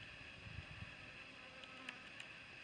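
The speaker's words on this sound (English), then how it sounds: "You can hear the bees flying around me." Bees buzz around outdoors while walking through dry spring foothills in front of Sheep Mountain, a faint steady hum with a few brief louder passes close by.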